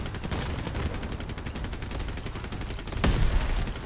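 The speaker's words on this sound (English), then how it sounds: "he's pretty much shooting my my guns and aiming for my cabin but hitting my guns" Sustained machine-gun fire rattles in rapid continuous bursts during a vehicle combat match in the game Crossout, loud and unbroken, with a heavier impact near the end.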